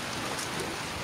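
Steady rain pours down outdoors on a rainy day at home, a dense continuous hiss of drops with no break and no voices.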